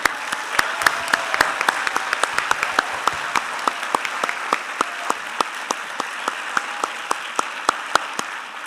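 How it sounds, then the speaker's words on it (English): Scattered, sparse clapping for parents and families at a Class of 2022 graduation ceremony, a few separate hands clapping steadily and fairly close throughout, with no crowd roar or voices. "your parents and family, a big applause"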